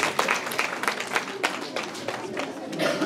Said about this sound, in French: On acclame très très fort.